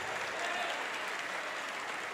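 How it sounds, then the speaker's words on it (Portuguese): Sustained applause from a large church congregation during a worship service, a steady unbroken wash of clapping at moderate loudness. "vamos aplaudir mais ao nome de Jesus."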